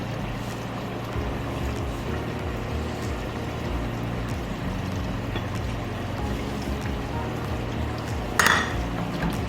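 Crushed browned onions being mixed into chicken korma in a pot, a steady low scraping and clatter of a spoon against metal that runs continuously, with a brief sharper clink near the end.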